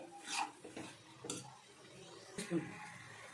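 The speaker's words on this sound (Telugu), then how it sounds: "ఇప్పుడు కొబ్బరిని అయితే తిప్పుకుంటున్నాను మొత్తం బాగా కలిసేలా." A spoon stirs grated coconut into sugar syrup in a pan on a low flame, giving a few soft scrapes and clinks against the metal at a quiet, close level.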